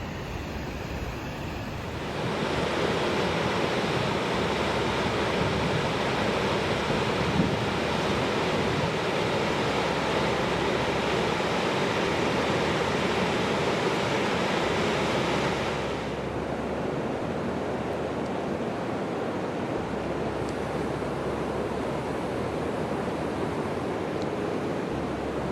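River water rushing past a salmon fish ladder in the taiga, a dense continuous roar like surf, steady and fairly loud throughout with no voices, easing slightly toward the end.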